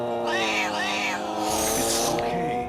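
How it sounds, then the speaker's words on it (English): A wild cat in a cartoon yowls and hisses loudly and close, with drawn-out rising and falling wails and a harsh hissing burst. "that wild cat could have scratched your eyes out"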